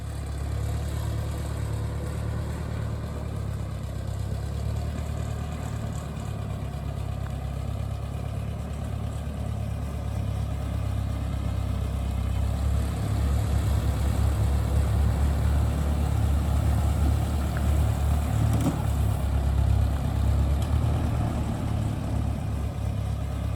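A tractor engine running steadily at a low rumbling idle, close and continuous, growing somewhat louder and rougher partway through with no talking.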